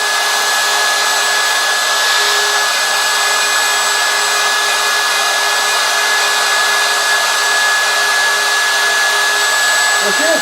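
A router fitted with a profile bit carving wooden letters for Western-style lettering gives a loud, steady high-pitched whine with a constant tone, running unbroken for the whole stretch with no talk over it.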